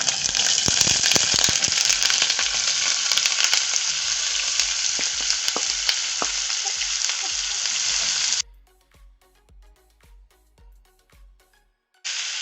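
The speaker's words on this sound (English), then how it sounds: "To our hot pan, we add the onions." Onions fry in a hot pan for beef burgers, a loud, dense sizzle with stirring clicks for about eight seconds, then near silence with faint ticks before the sizzle briefly returns.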